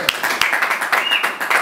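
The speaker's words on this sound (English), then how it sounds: "Big round of applause." An audience applauds at a gala event in a concert hall, a dense fairly close clapping with a few sharp individual claps standing out, running briefly without pause.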